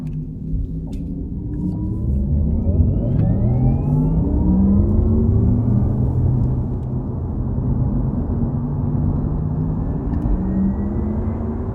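Porsche Taycan Turbo electric car in electric sport mode with its artificial drive sound switched on: a steady, loud futuristic hum with rising whirring tones and deep rumble as it accelerates, continuous throughout with no talk.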